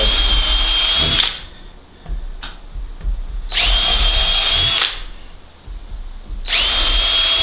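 A power drill drives screws into wood while a goat disbudding box is built, three loud high whirring bursts of about a second each separated by quieter pauses with handling knocks, close up.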